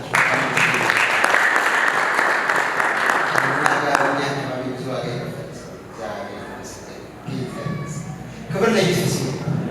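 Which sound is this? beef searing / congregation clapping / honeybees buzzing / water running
congregation clapping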